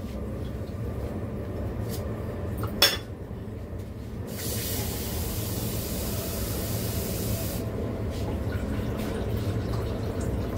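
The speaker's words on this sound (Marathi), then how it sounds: "त्याच्यात आपण पाणी टाकूया." A soft background hiss, then a short clunk followed by a rushing stream of water being poured into a cooking pan for a few seconds before it stops.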